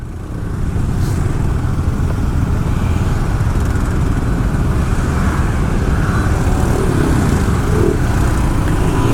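Cars and motorbikes sit in a long traffic jam on Jalan Raya Canggu in Bali, a close, loud, unbroken drone of idling and creeping engines.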